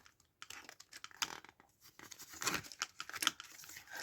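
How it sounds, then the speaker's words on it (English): Paper banknotes are folded up for cash stuffing, close and quiet, with irregular crinkling and crisp rustles that come in short bursts and grow busier toward the end. "So let me fold up this money"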